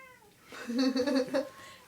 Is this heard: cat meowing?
yes